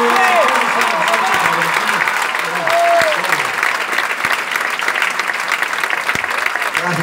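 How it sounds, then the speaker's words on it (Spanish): Loud audience applause at a live concert, steady and dense throughout, with crowd voices and a few shouts mixed under the clapping. "Fuerte el aplauso."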